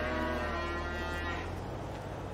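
Cattle mooing in the farming video game Farming Simulator 22, a long, steady, loud low moo with layered harmonics, held for about a second and a half before fading into a dense herd din.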